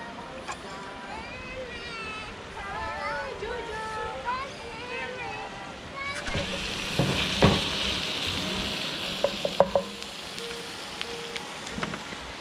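Meat sizzles in an oiled pan over a campfire, a steady frying hiss that swells louder in the second half, with a few sharp crackles and pops and someone talking over the first part.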